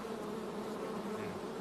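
Bees buzz steadily around an open beehive during a brood inspection, a soft continuous drone at close range with no voices.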